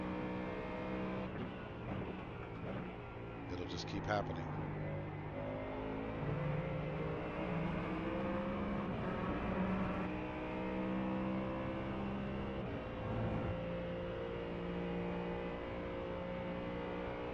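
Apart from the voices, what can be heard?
Mustang GT3 race car engine in iRacing video game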